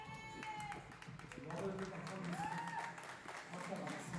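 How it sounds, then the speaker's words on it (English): Fans clapping in the stands at a FIBA 3x3 Asia Cup basketball game between Sri Lanka and Mongolia, a scattered crowd applause mixed with arena noise and squeaking sneakers, heard under a commentator talking. "Fans clapping it up."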